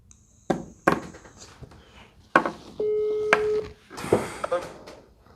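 Several short electronic beeps and a longer steady tone sound in sequence, mixed with clicks and handling noises nearby.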